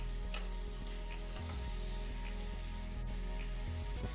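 Nugget-sized pieces of trimmed pork fillet sizzle in a frying pan for a casserole. A steady, soft, even crackle continues throughout without any talk.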